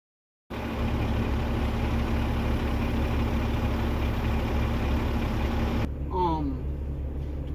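A bus engine starts up after a long idle period and settles into a steady, loud, low idle rumble, with a brief sound of movement near the end.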